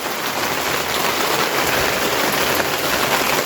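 Steady, dense rain patters continuously on a surface, a loud even hiss with no pauses.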